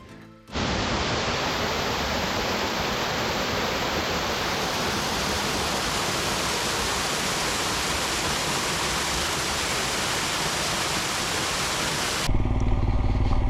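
Aagaya Gangai waterfall in the Kolli Hills roars as a dense, loud, unbroken rush of falling water. It starts after a brief quieter moment and holds steady throughout, with no voices.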